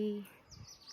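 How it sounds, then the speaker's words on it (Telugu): Faint, brief sparrow chirps sound in the background for a moment after a short low tone. "ఇగో పిచ్చుకలు ఏరుస్తా ఉన్నాయి"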